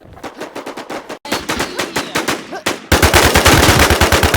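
Video game gunfire in rapid automatic bursts, several loud close strings of shots separated by brief gaps, the last burst heaviest and densest.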